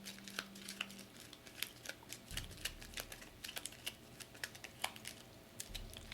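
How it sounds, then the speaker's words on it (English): Encounter cards for the Mice and Mystics board game being shuffled up close, a quick run of crisp papery clicks and riffles with no talking. "Shuffle them up."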